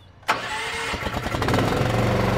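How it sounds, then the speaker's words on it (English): Engine of an Equipter 5400 unit cranks and catches with a sharp start, then settles into a close, loud, rough idle that grows slightly stronger. "and then start the engine"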